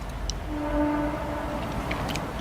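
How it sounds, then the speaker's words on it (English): A distant train in the woods, a faint sustained horn tone drifting through low background rumble for a second or so, with a few soft chirps above. "That's just a train."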